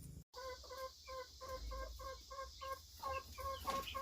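Backyard chickens cluck in a steady run of short, repeated calls, close and fairly loud, with faint outdoor background noise and a brief gap near the start.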